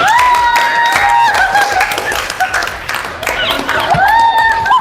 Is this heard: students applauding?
yes